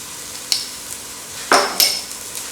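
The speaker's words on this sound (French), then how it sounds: "mettre tout de suite la purée d'ail. Une grande quantité de purée d'ail." Garlic purée dropped into a hot pot, giving short bursts of sizzling and clattering as it hits the oil, with a couple of sharp utensil knocks in between.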